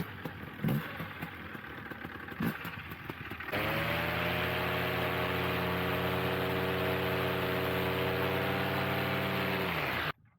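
Outboard boat motor fitted with a KD propeller revs up from about 3.5 seconds into a steady high-pitched drone that holds loud and constant, then cuts off near the end after a brief, rougher stretch at the start.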